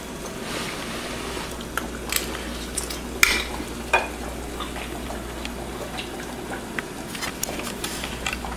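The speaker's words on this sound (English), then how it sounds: "I'm gonna just put this frying pan under water" Hot frying pan held under running tap water in a home kitchen, giving a steady wash of sizzling and hissing with a few sharp clinks and splashes, fairly close and continuous with no talk.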